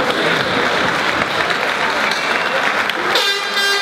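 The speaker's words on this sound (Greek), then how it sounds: "Θέλω το πιο δυνατό χειροκρότημα" Loud crowd applause and cheering fill a cage fighting event arena before the final bout, a dense continuous roar, with a horn-like honking tone breaking in near the end.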